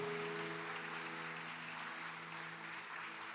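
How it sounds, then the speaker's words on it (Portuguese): A church congregation applauds during a Sunday morning worship service, a steady wash of clapping that holds evenly throughout, with a sustained tonal hum of music underneath. "Dê um aplauso ao Senhor nessa manhã"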